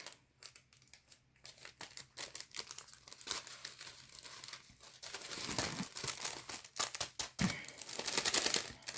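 A plastic bag is crinkled and pressed down while part of it is glued into an altered notebook, giving a close, continuous rustle with sharper crackles that grow denser and louder toward the end.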